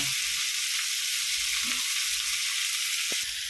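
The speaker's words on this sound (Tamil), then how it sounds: "இப்போ ரெடி ஆகிடுச்சுக்கா நல்லா வதங்கிடுச்சு" Herbs for a medicinal leg-bone soup sauté in a hot pan, giving a loud, continuous close-up sizzle and frying hiss with a few faint stirring clicks and no talk.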